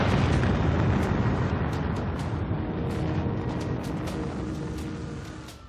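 An atomic bomb detonates in archival footage, a roaring, rumbling blast that swells loud at once and slowly fades over several seconds.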